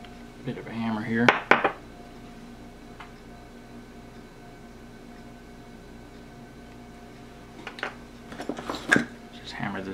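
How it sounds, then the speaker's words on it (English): A part is hammered into a vintage aviator watch with a flieger dial. A quick cluster of sharp metallic taps comes near the start and another burst near the end, with quiet bench noise in between. "Just hammer this in real quick here"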